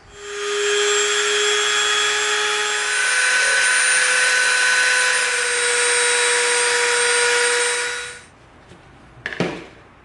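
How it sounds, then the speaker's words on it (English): A Dremel rotary tool carves into EVA foam with a loud, steady high-pitched whine lasting about eight seconds, then winds down and stops, followed by a few brief handling knocks. "now before we Dremel, we always put on our dust mask"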